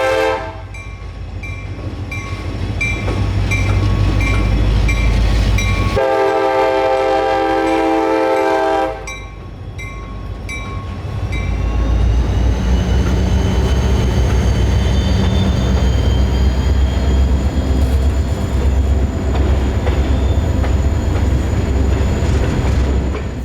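An EMD locomotive rolls along the Navy Spur, loud and close, with a continuous rumbling engine, steady clatter of wheels and a sustained horn blast lasting several seconds partway through, the heavy drone carrying on afterward.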